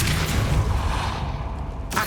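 Incendio and Depulso spell effects in Hogwarts Legacy, a loud fiery whooshing burst with a low rumbling boom, fading, then a sharp second rush of force near the end.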